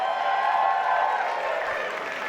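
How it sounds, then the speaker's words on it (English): Audience applause at a comedy and drag event in Los Angeles, a dense, steady wash of clapping from a crowd that holds at an even level throughout. "Give them a round of applause."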